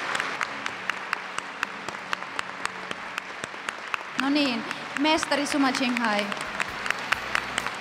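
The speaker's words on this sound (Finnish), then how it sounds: "Eli suuri aplodi meidän mestarille tässä." An audience in Helsinki, Finland, welcomes a spiritual master with sustained applause and sharp individual claps standing out, while someone speaks into a microphone over it partway through.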